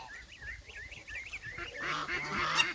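Geese give a few honking calls up close, nasal repeated honks over faint background rustle and bird chatter.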